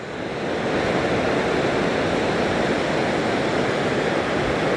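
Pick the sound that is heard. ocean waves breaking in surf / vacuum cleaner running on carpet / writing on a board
ocean waves breaking in surf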